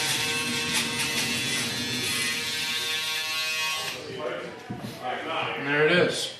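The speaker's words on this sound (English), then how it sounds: "just come back in with our shaver, just clean it up just a little bit" An electric shaver buzzes steadily and close up for about four seconds as it cleans up the neck and under the jaw after a fade haircut, then stops. A voice follows.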